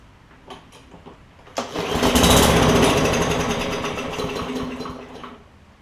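A Craftsman M100 push mower's small engine, which won't start, is pulled over: a few faint clicks, then a sudden loud sputtering roar that surges and slowly fades as it tries to speed up and dies away.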